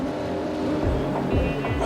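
Loud racing motorcycles at the French MotoGP Grand Prix roar and rise in pitch as they pull away on track, with overlapping revving and some background murmur.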